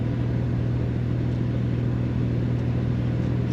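A 1954 Plymouth Plaza Club Coupe on the road, its engine giving a steady low droning rumble from inside the cabin, even and unbroken with no voices.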